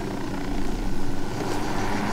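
A large helicopter sets down on raised ground in the video game Ghost Recon Wildlands, a steady loud rotor drone with rhythmic thumping, heard alone without talk.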